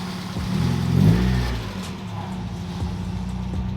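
A Mazda Miata engine revs up loudly and close, then settles into a steady rough idle, with a faint repeating knock from a worn connecting rod under the low engine drone.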